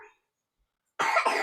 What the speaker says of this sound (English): Uh-oh, don't cough